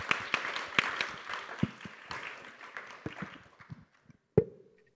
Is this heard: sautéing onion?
no